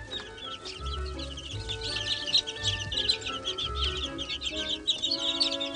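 Araucana chickens cluck softly and steadily close by, with repeated low murmurs over a background of chirping birds.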